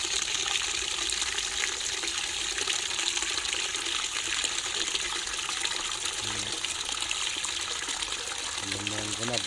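Water pours steadily into a cooking pot to wash rice, a continuous close gushing rush with a faint voice briefly under it near the end.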